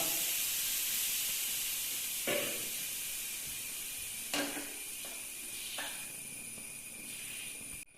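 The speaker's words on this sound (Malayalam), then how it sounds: "ഇപ്പൊ ദോശക്കല്ല് ചൂടായിട്ടുണ്ട് ആദ്യം കുറച്ച് വെള്ളം തളിച്ചു കൊടുക്കാം" A continuous hiss of steam rises from a hot dosa griddle, with a few sharp sizzling spurts as sprinkled drops of water land, close and fairly quiet.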